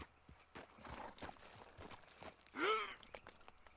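Horse hooves clip-clop at a slow walk in Red Dead Redemption 2, irregular soft thuds with a brief whinny-like cry midway, fairly quiet and close.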